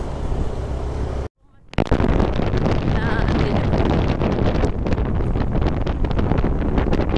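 Strong cold wind buffets the microphone near a lake in Nagcarlan, a loud continuous rumble that cuts out briefly, then returns steady and gusty.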